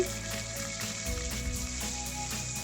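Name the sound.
garlic frying in hot oil in a pot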